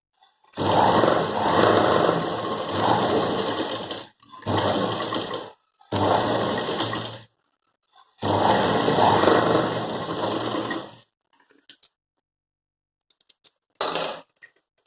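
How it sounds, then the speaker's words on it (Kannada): Sewing machine stitching a carry bag made from a blouse piece, running in four loud close bursts of a few seconds each with short pauses between, then a brief final burst after a quiet gap. "ನಾವು ಹೊಲ್ದಿರೋದು ಬರೋ ರೀತಿಯಾಗಿ ನಾವೀಗ ಹೊಲಿಬೇಕು ಮಡ್ಚ್ಕೊಂಡು"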